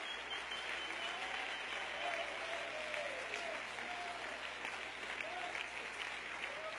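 A church congregation applauds continuously, a dense, steady wash of clapping that holds at an even level throughout, with no break.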